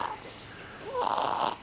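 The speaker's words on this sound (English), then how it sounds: "She's snoring." A pet dog or cat snores softly at close range, a low rasping breath followed by a longer, louder snore.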